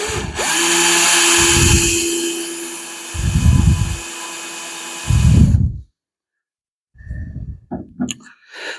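A power drill with an automatic chuck whines loudly for several seconds with pulsing bursts while installing a coil-over shock mount on a 1975 Plymouth, stops abruptly, then gives a few short revving spurts amid clicks.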